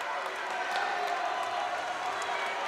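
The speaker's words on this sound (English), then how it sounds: "Dixie crowd going nuts" Spectators at a high school boys' basketball game between Snow Canyon and Dixie High roar in a gym, a steady, dense wash of crowd noise that holds at an even loudness throughout.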